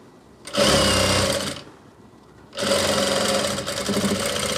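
An electric sewing machine stitches a gents kurta in two close, loud bursts of rapid whirring, the second starting after a brief pause and running longer, with no voices.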